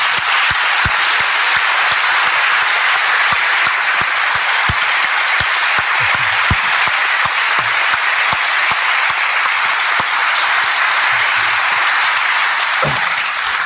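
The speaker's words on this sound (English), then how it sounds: "Thank you for clapping." Steady, loud applause from a crowd, many hands clapping continuously with a few sharper individual claps standing out.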